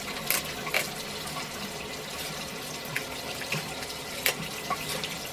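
Tap water runs into a small cup used for soaking and cleaning clear SmileDirectClub aligners, a steady soft rush with a few brief splashy spikes, moderately faint and with no talking.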